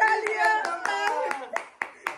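A few people clap their hands during a casual get-together of friends in Dimapur, with cheerful exclamations and voices over a steady patter of claps and several sharper, isolated hand strikes near the end.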